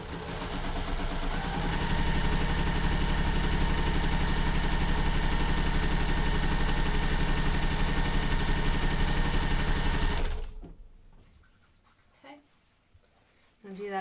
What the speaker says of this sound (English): So I'm going to go ahead and start sewing this side. And I'm sewing on the line.